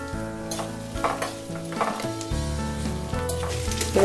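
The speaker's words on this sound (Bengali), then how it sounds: "এগুলো হালকা ভেজে নিব।" Chopped onion, garlic and sliced green chilies fry in hot oil with cumin, a close steady sizzle broken by scraping stirs of a utensil in the pan.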